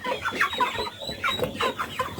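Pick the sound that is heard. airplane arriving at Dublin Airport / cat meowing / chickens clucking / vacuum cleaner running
chickens clucking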